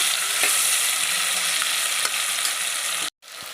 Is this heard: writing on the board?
no